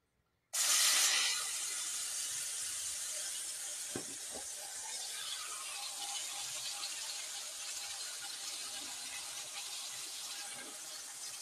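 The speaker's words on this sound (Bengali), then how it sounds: "তো আদা পেঁয়াজ বাটাটা আমার যখন ভাজা ভাজা হয়ে দিব বন্ধুরা" Ginger and onion paste dropped into hot oil, a loud sudden hiss that flares up at once and then settles into a steady, continuous sizzle with a few faint clinks along the way.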